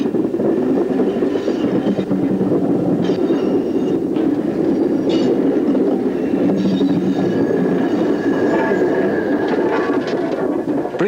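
A London Underground train with a Metropolitan Railway 0-4-4 tank engine at the rear rumbles past continuously at close range, wheels clattering and squealing over the rails, with a steady loud roar throughout.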